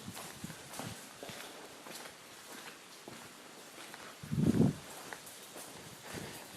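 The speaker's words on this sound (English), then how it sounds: "All you can hear is my trainers." Trainers stepping through an enclosed tunnel, a steady series of soft, close footfalls at walking pace with a slightly reverberant, hollow quality and one heavier scuff midway.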